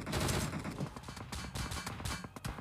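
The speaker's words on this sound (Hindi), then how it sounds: "सामने से फायर हो रहा है।" Gunfire in a mobile battle royale video game: rapid bursts of automatic shots, loud and close throughout, with no talking.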